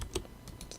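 Several quick clicks of computer keyboard keys pressed while modeling a drink can in Maya, close and crisp with no talk.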